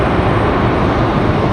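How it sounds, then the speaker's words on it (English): King Air turboprop landing at Raleigh-Durham airport, a loud, steady broadband engine roar filling the air without pause. "Looks like the King Air coming in on the left."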